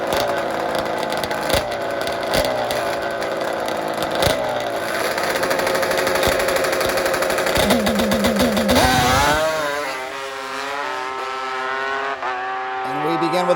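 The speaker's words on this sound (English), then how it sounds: "the most amazing assembly of two-stroke drag bikes you've ever seen" Nitrous-fed two-stroke drag motorcycles, including a 1973 Kawasaki H2, blast down the strip in a loud, high-pitched screaming run with rising revs and sharp pops, the engines tailing off near the end of the pass.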